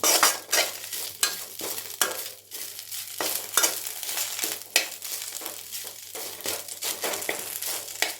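Drumstick leaves stir-fried in a pan over a low flame, with a steady close sizzle and repeated crisp rustling, scraping strokes of the spatula, loud and without speech.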